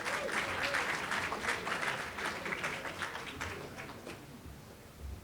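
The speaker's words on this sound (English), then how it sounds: "Give him a great big round of applause." Guests at a Martin Luther King Jr. prayer breakfast give a steady, fairly distant round of applause that gradually thins out and fades.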